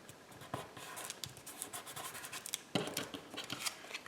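Small scissors trim the edge of a sticker on a rounded-corner playing card, giving soft, close snips and scratchy rubbing in an irregular rhythm at low volume.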